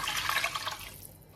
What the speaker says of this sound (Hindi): अब जी इसमें ऐड कर देते हैं एक गिलास पानी